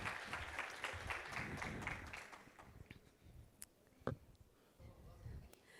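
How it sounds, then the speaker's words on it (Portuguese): Audience applause at a corporate talk about an insurance company case, fairly faint and distant, fading into quiet room noise with a few isolated claps and taps near the end. "Palmas para ele."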